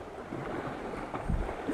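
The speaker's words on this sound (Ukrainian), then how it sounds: "Вітер. І я трошки курткою прикриваю е, камеру, щоб так не дуло" Wind buffets a camera microphone partly shielded by a jacket while fishing, in low, steady rumbles, with a couple of stronger thumping gusts near the end and no voices.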